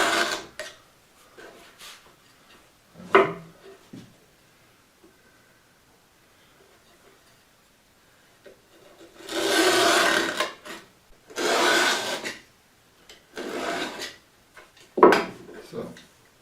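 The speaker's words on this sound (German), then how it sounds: "Von dieser Gummimatte schneide ich mir jetzt immer so Streifen durch." A blade cuts strips from a rubber mat in a workshop, several separate rasping, scraping strokes of a second or two each with quiet gaps between, fairly close and moderately loud.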